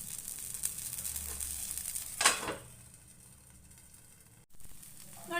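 A cucumber and carrot flatbread cooks in a little oil over a low flame, giving a soft, steady sizzle. A brief scrape from the pan comes partway through, and no one speaks.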